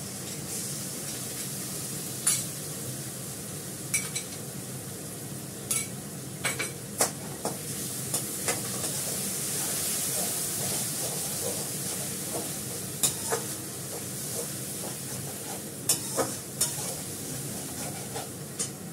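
Masala and yogurt stir-fried in oil in a pan, a steady sizzle underneath with frequent sharp clinks and scrapes of a spoon against the pan, continuous and fairly close, with no talking.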